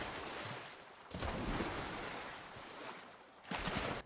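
River water in a Fortnite map built with the UEFN river tool, a soft broadband wash with two louder surges, faint and steady, with no voices.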